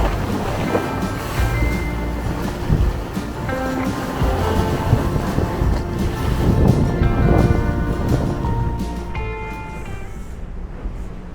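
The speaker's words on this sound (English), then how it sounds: "we're just getting on the face of these little rollers" A boat crossing a rough sea from St Helens to Maria Island, riding the faces of rolling swells, with steady wind buffeting, water rushing and slapping against the hull, and a continuous engine drone, loud and close throughout.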